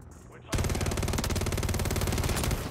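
WSP Swarm submachine gun in Call of Duty MW3 firing one long, rapid, loud continuous burst of closely spaced shots, starting abruptly after a brief quiet moment.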